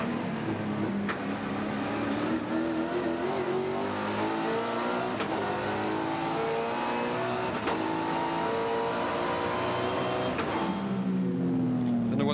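Race car engine noise from the 1994 Sandown 500, a loud, continuous high-revving engine roar with rising and falling pitch as the car accelerates and shifts, heard close and steady throughout.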